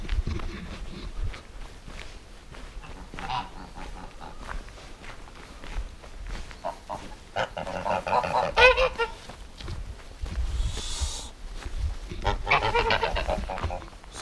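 Geese honk in repeated bursts outdoors, some calls loud and close, mixed with footsteps on the ground and faint background noise.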